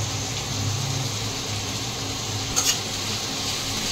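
Chopped onions sizzle steadily in oil with a soft stirring scrape over a constant hiss, and one brief clatter near the end.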